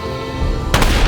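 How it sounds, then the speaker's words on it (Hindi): Sharp gunshot from The Walking Dead TV series, a single loud blast bursting in over a dense, steady dramatic soundtrack. "सोफिया पर गोली चलाने की किसी में हिम्मत नहीं हुई। तब रिक दिल पर पत्थर रख के आगे आता है।"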